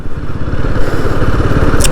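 A motorcycle rides along a city road, its engine putting out a loud, close, rough rumble with continuous chugging pulses and rattling, and no talk over it.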